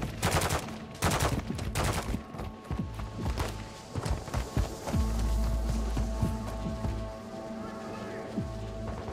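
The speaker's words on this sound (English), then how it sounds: "Taking effective fire." Dense gunfire from Call of Duty: Modern Warfare II DMZ, with rapid automatic bursts and heavy single shots overlapping, loud and close, under game audio and a low rumble during a firefight near an extraction zone.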